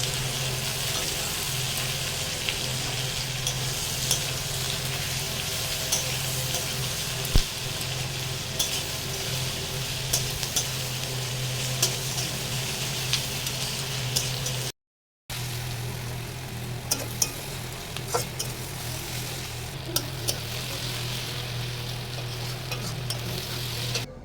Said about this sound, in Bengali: এবার এই পেঁয়াজটা ভালো করে ভাজা হবে